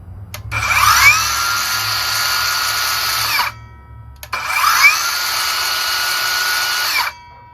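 A handheld 20V lithium-ion battery mini circular saw runs free in two bursts, each a loud high whine that spins up, holds steady for about three seconds, then cuts off abruptly with a brief quiet gap between.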